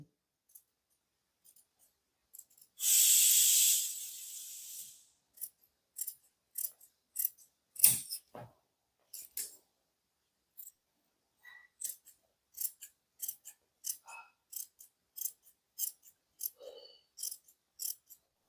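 Scissors cut the front neckline of a kameez in a long continuous snip, then a series of short, crisp clicks and snips follow at a steady pace, close and clear with no talk.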